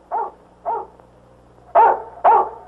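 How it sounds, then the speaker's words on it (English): A dog barks four times at night, two softer barks followed by two louder, closer ones with pauses between, over a quiet hum. "Well, then what's he barking about?"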